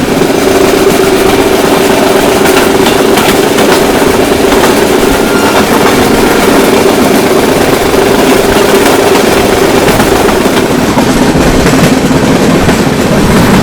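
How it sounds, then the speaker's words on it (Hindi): A train engine roars past as the Varanasi City–Darbhanga Antyodaya Express overtakes the Barauni–New Delhi clone Humsafar, a loud, continuous rail rumble with a steady droning hum throughout. "तो फाइनली हमारी ट्रेन ओवरटेक करने जा रही है अपनी बरौनी नई दिल्ली बरौनी क्लोन हम सफर को बाय"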